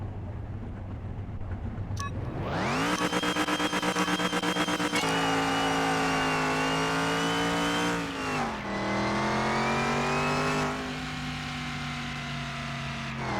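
A supercharged junkyard Camaro in Car Mechanic Simulator 2021 roars up from idle into a loud, sustained high rev on a track, dips once through a shift and then climbs again, close and continuous.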